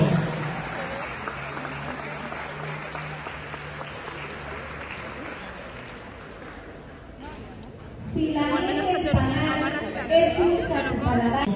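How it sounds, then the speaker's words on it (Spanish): A crowd at a school graduation ceremony in Pinotepa Nacional, Oaxaca claps in a steady wash that slowly fades, then a voice over a loudspeaker takes over with music-like tones behind. "Fuerte el aplauso."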